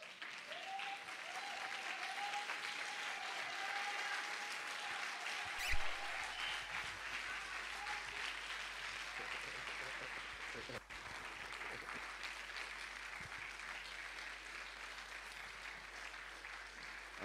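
A church congregation applauds in a sustained wash of clapping that lasts the whole stretch, steady and dense, with faint voices and a sustained tone mixed in at a moderate distance.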